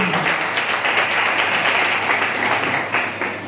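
A church congregation claps and applauds to acclaim the Lord during a worship service, a steady dense wash of hands filling the room throughout, loud and sustained with slight swells.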